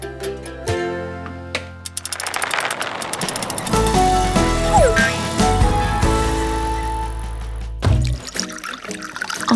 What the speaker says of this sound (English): That sounds like a lot of water.